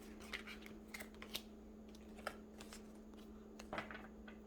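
Oracle of the Radiant Sun tarot-style cards being shuffled by hand, soft papery riffles and flicks coming in irregular bursts over a faint steady hum, quiet and close.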